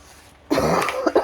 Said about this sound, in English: Still have that pesky cough.